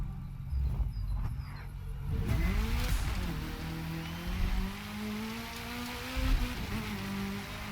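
An offroad car engine in the video game The Crew 2 revs up and drones steadily, rising and falling in pitch as it accelerates, with gritty tire and road noise underneath.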